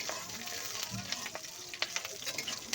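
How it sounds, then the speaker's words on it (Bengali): Panch phoron and chopped green chillies frying in mustard oil make a soft, continuous sizzle with faint crackles and light stirring, heard alone. "ফোড়ন আর লঙ্কাটাকে একটু ভাজা ভাজা করে নিচ্ছে"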